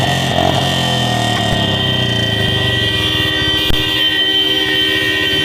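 Vehicle horns blare together in a protest by farmers, long steady overlapping tones that hold continuously with a rumbling engine bed beneath.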